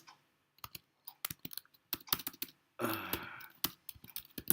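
Irregular bursts of keystrokes clatter on a computer keyboard, close and fairly quiet, with one brief rapid run of typing in the middle and pauses between the clusters.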